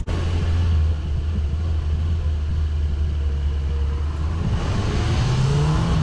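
Car driving on a one-way street during driving-exam practice in Tychy, Poland, then turning; a loud, steady low engine rumble throughout that shifts in pitch near the end as the car pulls through the turn.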